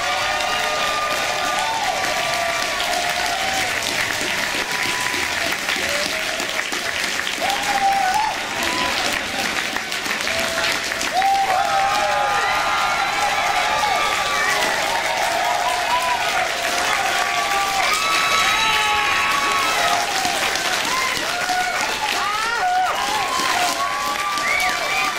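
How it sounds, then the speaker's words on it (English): A large convention-center crowd at the Portland Retro Gaming Expo applauds and cheers steadily for about twenty-five seconds, with dense clapping and whoops and shouts rising over it throughout. "let's hear the round of applause for James!"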